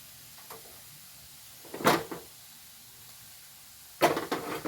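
A spoon scrapes and stirs through a pot of simmering coconut-milk prawn curry in a few short bursts, with quiet gaps between and a faint bubbling underneath.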